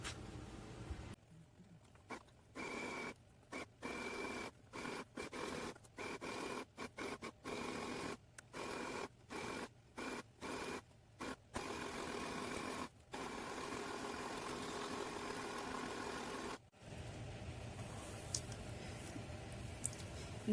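A sewing machine runs a zigzag stitch around a homemade cloth menstrual pad, loud and close, in repeated bursts of rapid whirring separated by short pauses, then one long continuous run near the end.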